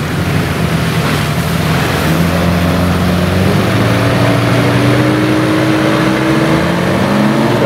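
Three motorboats travel along a wide river, their outboard engines droning steadily and close by, with water rushing and splashing against the hulls throughout.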